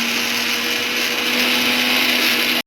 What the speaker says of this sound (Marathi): मिरची अद्रक लसूण मिक्सरमध्ये वाटून घेते